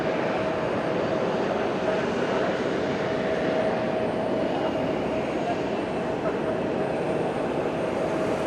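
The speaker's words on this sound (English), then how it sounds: "Regional jet." A regional jet roars at Fukuoka airport, its engine noise a loud, steady, broadband rush with a faint whine running through it, unbroken and close for the whole stretch.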